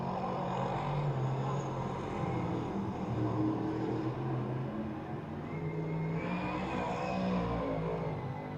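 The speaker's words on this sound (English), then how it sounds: "This race is halfway completed as Tony Farone continues to lead around this quarter 4/10 mile speedway" Dirt track race cars lap a quarter 4/10 mile speedway at Glen Ridge Motorsports Park in 2005, their engines forming a continuous loud roar that swells and eases slightly as the pack circles, with no pause throughout.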